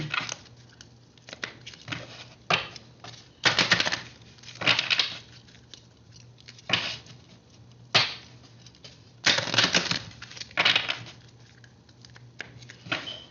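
Bursts of papery shuffling and riffling of tarot cards come in uneven clusters, with quiet gaps between them and a faint steady hum underneath.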